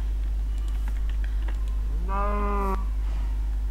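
A cow lowing in Minecraft snapshot 12w38a, one drawn-out tonal moo of about a second over a steady low background hum, with no talk.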